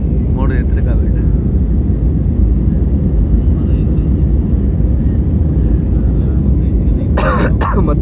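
Steady, loud rumble and roar of an airplane climbing after takeoff from Nepal, heard from inside the cabin as an unbroken engine drone, with a brief clatter near the end.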